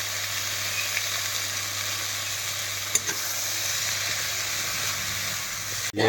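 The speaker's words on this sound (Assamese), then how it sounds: "টেঙামৰা শাক এতিয়া ভাজি আছোঁ মই।" Roselle (tenga mora) greens fry in a pan over onion and chili, giving a steady, even sizzle and hiss that runs throughout with one brief clatter midway.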